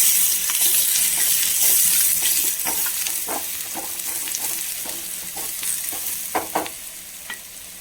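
Chillies fry loudly in hot oil in a pan for a village-style curry, a dense crackling sizzle with scattered pops and sharp spatula scrapes that grow more frequent toward the end.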